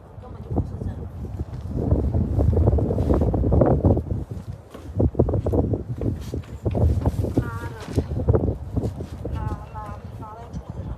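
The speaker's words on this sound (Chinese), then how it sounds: "今天这是6、7级、7、8级阵风，一直刮到现在不是阵风" Strong gusting wind of force 7 to 8 at a rural campsite during a storm, buffeting the microphone as a loud, sustained roar that surges and dips without pause.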